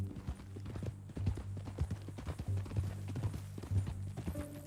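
Horse hooves clip-clop in a steady walking rhythm in the Red Dead Redemption 2 video game, close and distinct over a low droning background, with a faint voice near the end.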